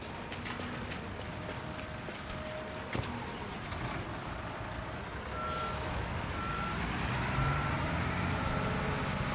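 Truck reversing alarm beeping repeatedly at an even pace in Construction Simulator 2022, over a steady engine drone, with a brief air hiss and a few clicks along the way.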